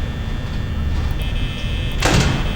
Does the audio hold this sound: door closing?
yes